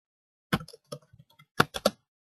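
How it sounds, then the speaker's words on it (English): Java code is typed on a computer keyboard, close and clear. A few scattered keystrokes are followed by a quick cluster of clicks, with no talking. "I'm not typing the entire word, rather I'm typing the first two alphabets"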